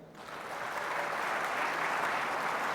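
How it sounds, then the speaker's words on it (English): A large audience claps steadily at a talk, broad sustained applause swelling after a brief start and holding loud for nearly three seconds, with no voices over it. "Applaud if that describes you."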